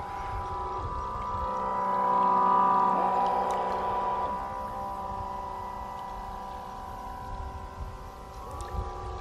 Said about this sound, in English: Listen to this as it goes by. Give us a full throttle pass